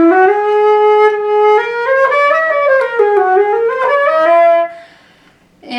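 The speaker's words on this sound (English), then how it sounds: "So you play the flute, but you're rolling in, and it sounds kind of like this." A flute played with the embouchure rolled in too far plays a slow melodic phrase of sustained notes that sound small and muffled, with little airy brilliance, then stops briefly before another note begins.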